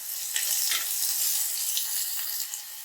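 Onions frying in hot oil in a pan for Muslim-style pulao, a bright, steady close sizzle with a few brief louder crackles and stirring scrapes throughout.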